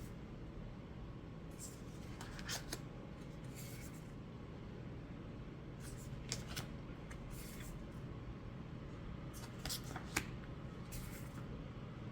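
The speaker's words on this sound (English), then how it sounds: "try to shuffle this deck" Several quick bursts of tarot cards riffling and snapping together, coming in short clusters over a low steady background hum, fairly close and not very loud.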